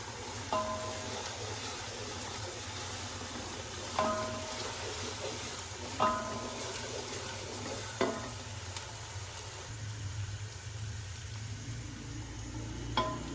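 Ginger and garlic fry in a pan for pakora curry, a steady soft sizzle punctuated every couple of seconds by a metal spoon striking and scraping the pan, close but quiet, no talk.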